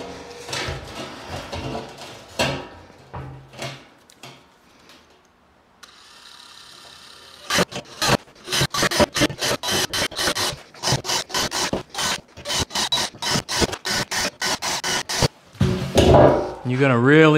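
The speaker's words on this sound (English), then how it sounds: "I'm drilling holes around the top, and then about an inch down drilling more holes" A drill bores pilot holes around the top of a metal burn barrel, first a few scattered rasping bursts, then a dense, loud run of rapid grinding strokes after a short pause.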